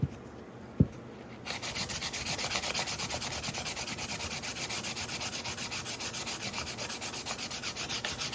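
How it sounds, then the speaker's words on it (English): Steady rhythmic sanding of a clay cone witch's hat, a rough back-and-forth scraping that starts after a brief knock and continues evenly, close by, with no talking. "we're going to try sanding this thing again"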